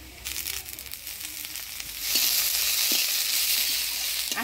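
Crushed garlic hits hot oil already holding chopped onion, green chili, whole cumin and bay leaf for ghugni, the sizzle jumping louder partway through and then holding as a steady hiss.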